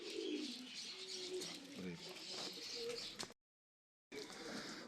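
Pigeons, including one with its hen, coo softly, low throaty calls repeating under some background chirping, briefly cut to silence before resuming.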